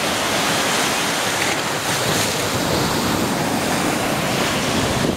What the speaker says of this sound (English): just go to the ocean and sit next to where the waves are coming in